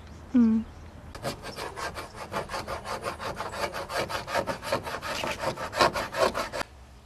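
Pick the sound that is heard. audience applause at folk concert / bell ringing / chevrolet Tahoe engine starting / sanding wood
sanding wood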